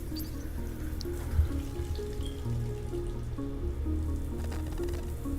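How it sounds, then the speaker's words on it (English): A kitchen faucet runs hot water in a steady, wet flow with some gurgling and splashing. It continues for several seconds at moderate loudness, with a low hum underneath. "the faucet spews out hot water"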